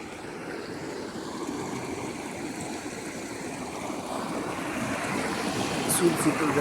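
Water rushes and gurgles steadily nearby along an irrigation channel feeding a wheat field, a continuous flowing sound that grows slightly louder toward the end.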